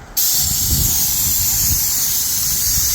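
Low-pressure paint sprayer with a fine-finish tip coating a metal roof, giving a steady loud hiss that starts abruptly and runs unbroken with no talk.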